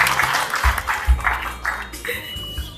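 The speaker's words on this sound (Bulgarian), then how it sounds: "Айде да ръкопляскайте, бе!" Scattered, uneven clapping at a lively church prayer meeting, in bursts with low thumps and shouting voices mixed in.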